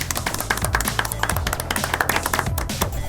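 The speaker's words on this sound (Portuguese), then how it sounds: "Palmas!" Clapping in a newly opened podcast recording studio: a few people clap in quick, crisp, uneven slaps over a faint low hum, close and alone without voices.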